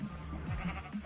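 A sheep bleats in the video game Minecraft, a short wavering electronic bleat heard up close, loud and on its own.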